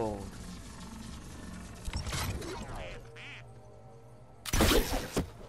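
Several cartoonish duck quacks sound in a video game, with game chimes and effects around them and a louder burst of noise near the end.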